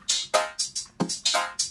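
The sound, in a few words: drum pattern through a spectral resonator following MIDI chords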